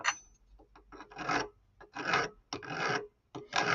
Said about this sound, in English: I'll switch to the rougher file at this point